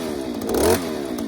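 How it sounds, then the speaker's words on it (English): Stihl KM94/FS94 line trimmer engine revving up as its clutch engages and spins, a short close buzzing rise that peaks and eases back. "as I slowly accelerate, it will engage the clutch and this will spin inside here."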